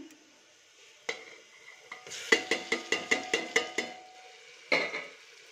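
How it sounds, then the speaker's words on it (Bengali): Ground spices with ginger-garlic paste, cumin, coriander, turmeric and Kashmiri red chilli powder in a pan: a run of about ten sharp metal spoon scrapes and taps over a low sizzle, with a last louder clank near the end. "তো এই মশলাগুলো দিচ্ছি"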